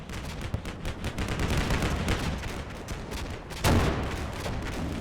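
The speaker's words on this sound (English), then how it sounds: "That may be his artillery" Artillery and small-arms fire crackle continuously in the video game Combat Mission Black Sea, with a dense, distant rumble and one sharper, louder blast near the end.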